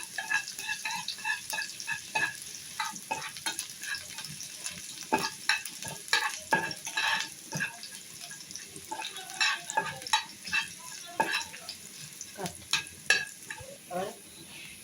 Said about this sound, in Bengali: নাড়াচাড়া করার পরে ভাজা হয়ে যাবে।